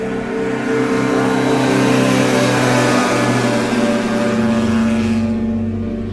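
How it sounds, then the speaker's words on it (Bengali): A loud engine drone swells as a motorbike approaches and passes close by, then fades away toward the end. "কিছুক্ষণ পর সেই ফেলে আসা বাইকটা বিমলবাবুকে ক্রস করে চলে যায়"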